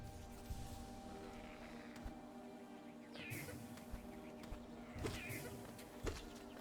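A constant low buzzing of bees in the video game Hollow Knight drones under a faint, busy background, with occasional soft taps and swells, fairly quiet throughout.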